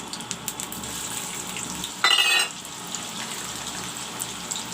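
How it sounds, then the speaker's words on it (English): Chopped onions dropped into hot mustard oil for a red gravy soyabean curry, giving a brief loud sizzling burst midway over a steady low frying hiss, with no talking. "I will put this chopped onions."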